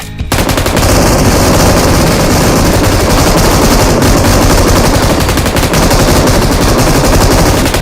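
An M249 light machine gun in PUBG Mobile firing continuously, a loud, dense, unbroken burst of rapid shots lasting the whole stretch, close and dominant.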